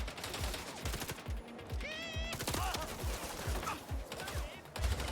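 Rapid bursts of gunfire from a cover-based shooter game, loud repeated cracks in quick succession with a few tonal game effects mixed in, under a faint voice.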